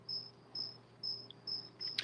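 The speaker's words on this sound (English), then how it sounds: "Just record like 12 hours of cricket chirping." Crickets chirp in regular pulsed bursts, about five evenly spaced trills over a steady low background hum, moderately close and clear with no talking.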